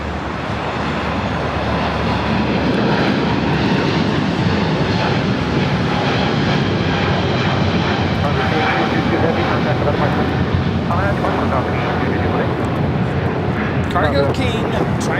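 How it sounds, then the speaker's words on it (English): A China Cargo Airlines Boeing 777 freighter takes off from Los Angeles airport, a loud, sustained jet engine roar that fills the scene and rumbles steadily without letup, with a voice talking over it. "Cargo King, China Cargo Airlines 222, taking off to Shanghai on a 777 freighter."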